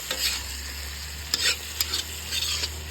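Pork with mustard greens frying in a hot pan, a steady sizzle broken by several scraping, clattering stirs of a spatula, close and fairly loud with no talking.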